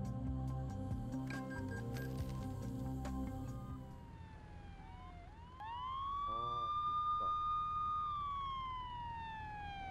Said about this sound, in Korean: 그냥 경찰 사이렌만